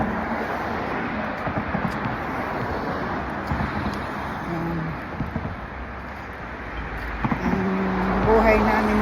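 Everyday road traffic on a busy city street in the Philippines, a continuous broadband rumble of passing cars with engine hums rising and fading, wind buffeting the microphone, and the noise swelling louder near the end.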